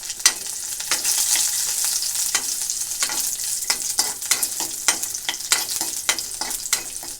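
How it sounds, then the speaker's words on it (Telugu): Garlic and dried red chillies fry in hot oil in a pan, a bright continuous sizzle broken by sharp stirring scrapes and crackles at an irregular pace, close up with no voices. "అది హీట్ అయిన తర్వాత వెల్లుల్లి వేస్తున్నాను. ఎండుమిర్చి వేస్తున్నా."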